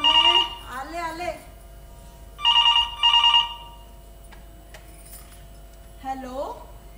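A telephone rings in a home scene of a Marathi stage play, giving one clear double trill mid-clip while someone talks before and after it, the ring bright and close.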